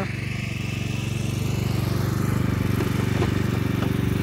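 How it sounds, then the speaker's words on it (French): A lawn mower runs steadily and close at a garden entrance, its engine droning in a loud, constant pulsing hum that rises slightly partway through, with no voices. "C'est sympa de filmer pendant que Philippe il passe la tondeuse"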